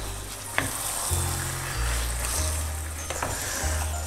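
Chicken curry with curry leaves sizzling in a pan as it is stirred, a steady bright frying hiss with occasional scraping clicks of the spoon against the pan, close and continuous with no talking.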